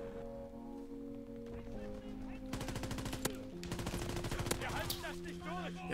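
Rapid bursts of assault rifle fire from a World War II shooter game crackle in a dense, repeated stream over steady background music, with short pauses between volleys and a few sharper single shots standing out.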